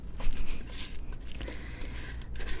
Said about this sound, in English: That's the sound of my spatula